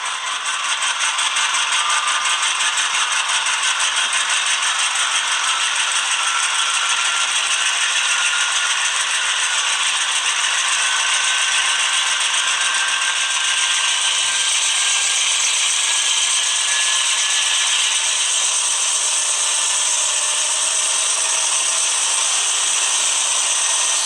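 HO scale BNSF Dash 9-44CW model locomotive from ScaleTrains, its sound unit notching up the throttle while standing still, a steady loud mechanical whine and rumble with a slowly rising tone, no talk.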